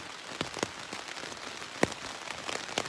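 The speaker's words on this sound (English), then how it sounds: "It's raining." Rain falls steadily on the Appalachian Trail, a dense patter with scattered louder drops hitting nearby surfaces, close and continuous.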